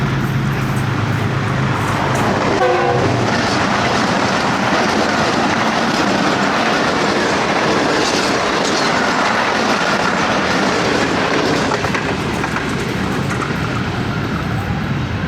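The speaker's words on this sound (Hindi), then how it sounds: "अब सुबह रफ्तार ये गुज़रने लगी है गुजरांवाला कैंट से GU20 के साथ" Train passing through Gujranwala Cantt station, heard from aboard a passenger express: a loud, steady roar of wheels and rolling stock with a continuous rumble and faint clatter throughout, no talking.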